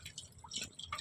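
Water drips from a washing machine pipe during cleaning, a few soft irregular splats and trickles close by, one brief tonal plink standing out among them.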